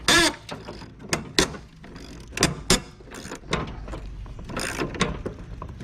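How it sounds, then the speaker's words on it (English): A hand wrench removes bolts from a lawn tractor seat, producing sharp metallic clicks and ratcheting bursts in irregular clusters, close by, with small knocks and handling noise in between. "While he's wrenching those out"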